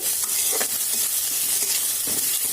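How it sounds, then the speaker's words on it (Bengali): Chopped ginger and garlic sizzle steadily in an oiled pan with fried onion, a constant bright frying hiss broken by a few soft scrapes of stirring. "আদা আর রসুনটাকে কোটা করে দিয়ে দিয়েছি। এটা একটু কিছুক্ষণ কষিয়ে নেব।"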